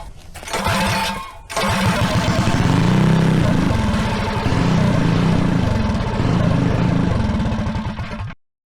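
GX270 clone small engine on a buggy, not idling smoothly: it runs with a loud, close, steady chugging drone that swells as it revs, briefly drops out near the start, and cuts off abruptly at the end.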